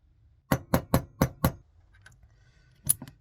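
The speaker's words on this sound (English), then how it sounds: "Now I'm gonna hammer on my sights." Hammer blows drive gun sights onto a pistol slide: five sharp metallic strikes in quick, even succession, then a pause with faint clicks and two more taps near the end, close and with no talk.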